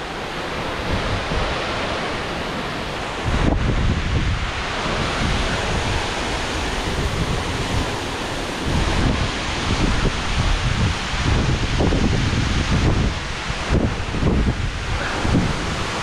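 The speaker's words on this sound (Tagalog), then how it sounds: "lakas ng hangin" Strong wind roars at Ellenborough Falls in New South Wales, a loud, steady rushing that swells in gusts and mixes with rustling, with no voices.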